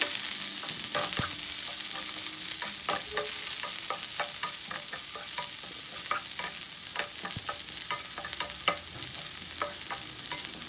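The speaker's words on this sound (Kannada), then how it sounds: "ಅದಕ್ಕೆ 2 ಹಸಿಮೆಣಸಿನ್ಕಾಯಿ, 1 ಈರುಳ್ಳಿ ಹೆಚ್ಕೊಂಡಿರೋದು ಫ್ರೈ ಮಾಡಿ" Chopped onion and green chilies frying with cumin powder in hot oil for a broccoli and mixed vegetable stir fry: a steady close sizzle with frequent scraping, clinking stirring strokes of a spatula in the pan, no voices.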